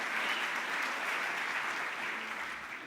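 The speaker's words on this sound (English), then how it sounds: "you can whistle and applaud at that" Dense, even applause from the audience at the NMPA annual meeting, a steady wash of clapping that fades slightly toward the end, with no speech.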